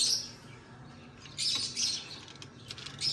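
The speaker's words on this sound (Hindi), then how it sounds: "ये कबूतर है" Pigeon sounds in a home poultry-keeping setting, with brief chirpy calls and a rustle of wings in bursts over quiet background, fairly faint.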